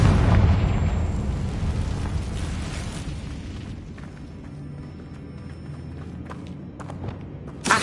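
A Confringo spell blasts in Hogwarts Legacy with a loud, rumbling fiery explosion that slowly fades into crackling debris, followed by a small thump near the end.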